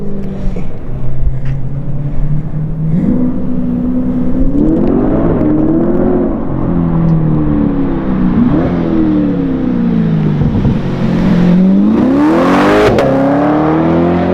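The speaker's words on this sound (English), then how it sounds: "Those downshifts sound so I know, exotic." A Corvette C8 with a custom exhaust revs loudly and close up, its pitch climbing and dropping through a run of downshifts and throttle blips, with no one talking.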